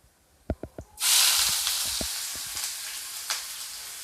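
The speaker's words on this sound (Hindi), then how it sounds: "इन सभी प्याज को मैं डाल दूँगी। डालने के बाद मैं इसको ब्राउन होने तक भूनूँगी।" Grated onion drops into hot oil with crackling cumin and a small piece of cinnamon, a loud broad sizzle bursting in after a few sharp taps and settling into a steady hiss, with occasional spoon clicks.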